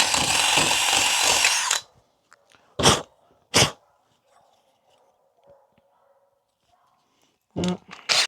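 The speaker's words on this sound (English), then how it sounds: "keep drilling into the block until you feel it sink into the hollow cavity that you already formed there." A power drill bores tunnels into a wooden block for a carpenter bee trap: a loud, steady whirring run that cuts off, then a few short sharp bursts separated by near silence.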